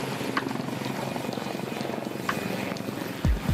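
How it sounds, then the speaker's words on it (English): Lynx helicopter returning from a routine test flight aboard the aircraft carrier HMS Ark Royal, its rotor and engine drone steady and fairly close throughout, with a brief louder thump near the end. "The Lynx helicopter's returned from a routine test flight"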